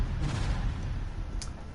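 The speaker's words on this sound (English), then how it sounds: "I'm not expecting too much from the explosions here, but special weapons." Explosions from special weapons in the PS4 shooter Project Root, a steady rumbling low boom with crackling bursts lasting throughout, a brief sharp high flash near the end.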